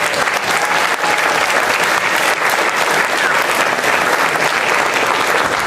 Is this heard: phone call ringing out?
no